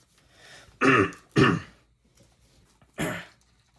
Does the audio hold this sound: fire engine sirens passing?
no